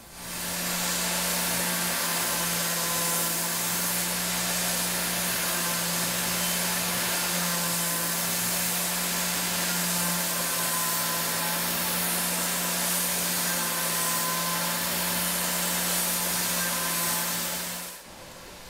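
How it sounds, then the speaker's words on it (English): A CNC milling machine runs tool 31 at 10K RPM, cutting a quarter-inch deep and 50 thou wide while making a quality control tolerance gauge. It gives a loud, steady whine with a constant hum, then stops abruptly near the end. "We're running tool 31 at 2 thou feet per tooth, 10K RPM, and a 1/4 inch depth of cut, and 50 thou width of cut."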